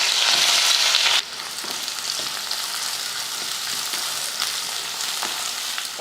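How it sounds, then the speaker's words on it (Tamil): A large onion sautés in oil in a kadai with curry leaves and whole spices, starting with a loud hiss that quickly settles into a steady, moderate sizzle with light stirring. "வெங்காயம் இது போல் அந்த பச்சை வாடை போகிற வரைக்கும் வதக்கிட்டு"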